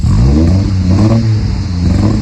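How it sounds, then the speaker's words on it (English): A Triumph Spitfire engine, its fuel mixture supposedly leaned, revs loudly and close up with a rough, uneven note that suggests misfiring, running continuously with no voices. "And look what happens when I rev the engine, even though we're meant to have leaned this mixture down."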